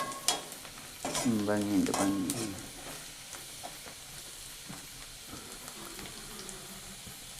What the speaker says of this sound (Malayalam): പച്ചമുളക് വേപ്പില വഴറ്റുക. നന്നായി വഴറ്റിയെടുക്കുക.